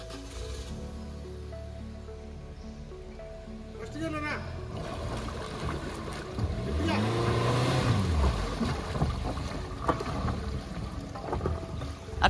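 A boat engine runs on a river trip near Lankamala forest, a low droning motor that rises and falls in pitch amid wind buffeting, with people talking over it.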